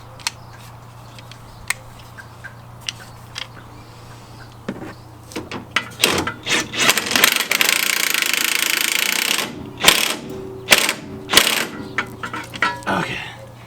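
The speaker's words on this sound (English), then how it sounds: "We'll tap it in with the impact on low." An impact wrench set on low drives a lug into a powder-coated wheel thread, a series of rapid rattling bursts and metallic clacks over a steady hum, loud and close.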